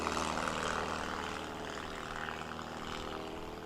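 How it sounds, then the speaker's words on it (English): A STOL airplane at the Swamp STOL competition in Jennings, Louisiana lifting its tail and taking off, a steady propeller engine drone heard from a distance, holding fairly even over a few seconds. "Pat McIntyre getting the tail up in slider, and he is off."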